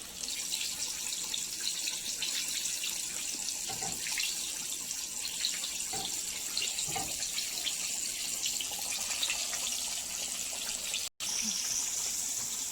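Flour-coated fish, dusted in all-purpose flour, sizzles in hot frying oil for a winter fried fish dish, giving a steady loud hiss with occasional soft pops and a brief cut near the end.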